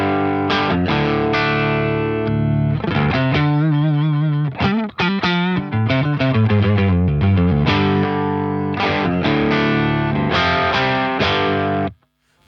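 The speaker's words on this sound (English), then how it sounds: "So that is the sound of the guitar, bit of a crunch" Electric guitar through a crunchy, mildly distorted amp, strummed chords and riffs ringing loud and continuous for about twelve seconds before stopping.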